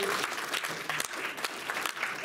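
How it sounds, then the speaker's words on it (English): Brief, moderately faint applause from an audience at a mentalism show, a steady patter of many hands with no voices over it. "Please a round of applause for me"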